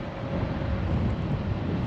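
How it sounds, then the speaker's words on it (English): Steady low rumbling wind buffets the microphone throughout, a continuous dull roar with no voices, on a hot West Texas farm field at planting time. "As y'all can tell, the wind got here"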